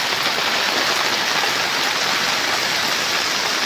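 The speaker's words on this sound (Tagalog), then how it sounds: "lakas ng ulan" Heavy rain pours steadily during a long downpour with lightning, gutters close to overflowing in a flooding residential street; a dense, unbroken hiss of water stays loud and even throughout, with no voices.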